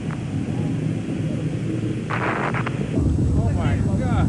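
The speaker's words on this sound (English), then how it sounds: "The explosion appeared to destroy Challenger." Deep, broad rumble from the Space Shuttle Challenger explosion during launch, a sustained loud roar with crackling bursts, heard over a steady background as if from a broadcast feed.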